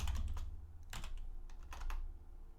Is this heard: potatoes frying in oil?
no